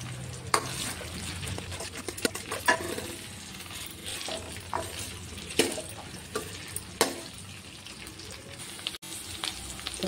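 Cut okra pieces sizzle and fry in a pan while being stirred, a steady close crackling hiss with irregular scraping knocks of a spoon against the pan, no talking.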